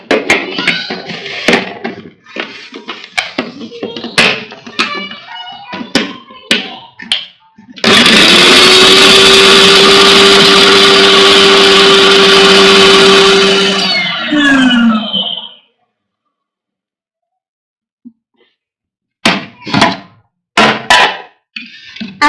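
An electric chopper whirs loudly for about seven seconds, chopping five or six green chillies and a large cut onion for homemade chicken shami kabab, its motor pitch dropping as it winds down; talk comes before and after.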